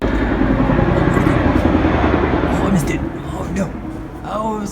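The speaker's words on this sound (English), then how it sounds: "It was one of those big military helicopters with 2 propellers and whatnot." A big twin-rotor military helicopter flies overhead, a steady broad engine and rotor roar that holds loud and even before easing slightly, with a voice talking over it near the end.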